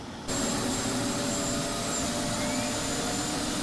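Engine 2 of a B-2 Spirit bomber in MSFS2020 spools up: a sudden loud onset of broadband jet roar with a faint high whine, holding steady and close for several seconds, no talk.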